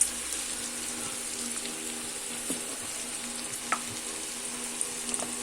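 Onions with salt fry in a pan for a potato and drumstick curry, giving a steady, even sizzle with a few faint clicks of a spoon stirring against the pan. No one speaks.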